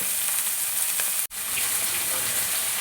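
Pearl spot fish rubbed with turmeric, chilli powder, pepper and salt fries in hot oil, a loud continuous crackling hiss that briefly cuts out mid-way before resuming.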